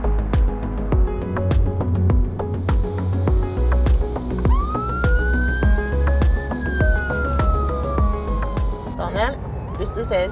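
An emergency vehicle's siren rises and sustains a wailing tone behind a driver, loud over background music and voices.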